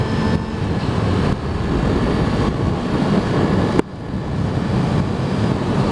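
A 2003 Honda CBR 600 F4i motorcycle accelerates hard at speed, its engine a loud, continuous roar buried in heavy wind rush, with a brief dip in the noise mid-run as it shifts gears.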